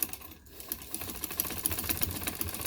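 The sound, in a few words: sewing machine stitching lace onto dupatta corner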